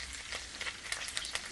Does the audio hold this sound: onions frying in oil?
yes